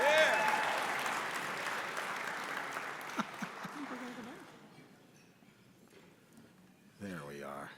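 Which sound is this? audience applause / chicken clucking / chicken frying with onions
audience applause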